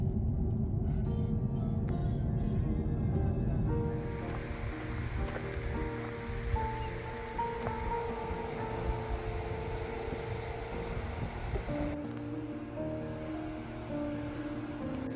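The Upper Deschutes River flowing beside a roadside park in Oregon, a continuous broad rushing of water that stays steady and full throughout, with no voices.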